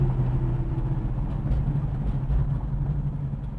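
A 1972 Plymouth Barracuda rumbles along on the road, its engine giving a steady low drone with faint road noise beneath.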